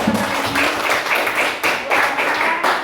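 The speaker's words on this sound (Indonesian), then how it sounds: "Tepuk tangan untuk kita semua" Classroom of students clapping hands together, a dense continuous patter of claps lasting the whole moment, fairly loud and close, with a few voices mixed in.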